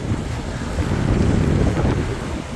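Strong April wind buffets the microphone with a low, steady rumble at the seashore in Datça, Turkey, mixed with the wash of waves nearby; no voices.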